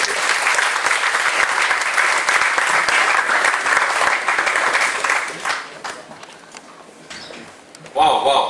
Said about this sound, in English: Let's give another hand applause to Mr. Indiran.